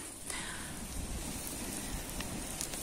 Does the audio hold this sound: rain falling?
yes